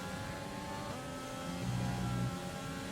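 Formula 1 race car engine in the F1 2020 game during a night race, a steady, high-pitched whine that rises and falls slightly with throttle, loud and continuous throughout.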